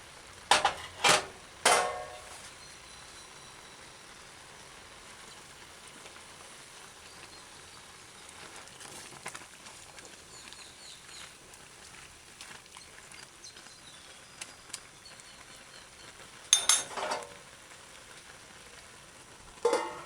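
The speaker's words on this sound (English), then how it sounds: "Look, it's boiling." A pot of liquid boils steadily, a continuous soft bubbling and hiss, with a few light clinks of cookware near the start and end.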